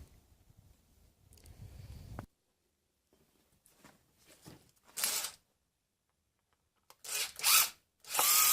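A power drill removes the distributor cap screws on a 1995 Holden Rodeo 2.6, whirring in several short, close bursts separated by quiet pauses and faint handling noises.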